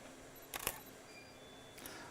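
Two crisp mechanical clicks of a single-lens reflex camera shutter firing for indoor home interior exposures, a sharp double snap near the start followed by a fainter single click near the end, over a quiet room.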